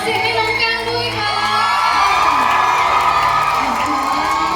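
A loud crowd at a Thai live performance of a song cheers, screams and whoops together, a dense, steady roar of many voices close by throughout.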